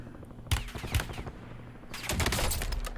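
Gunfire cracks in a Warzone battle royale match: two sharp, separate shots, then a dense, sustained burst of rapid firing near the end.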